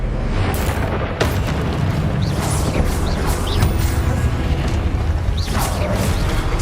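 Confringo spell explosions in Hogwarts Legacy: loud booming blasts and crashes, several in succession over a dense, continuous wash of game combat noise.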